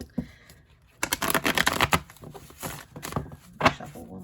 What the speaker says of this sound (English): These cards are a little hard to shuffle.